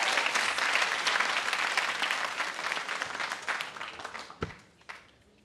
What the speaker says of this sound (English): I want you to clap very loudly for them.